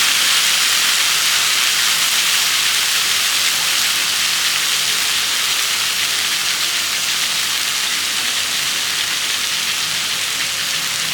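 Rinse water from a spice bowl poured into a simmering rohu fish curry in a pan, giving a steady, loud, broadband hiss and sizzle that runs unbroken throughout with no talking.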